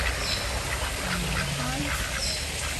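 Ducks at Hope Zoo in Kingston, Jamaica, giving a few faint quacks over steady outdoor background noise, without talk.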